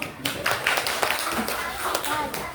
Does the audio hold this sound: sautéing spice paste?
no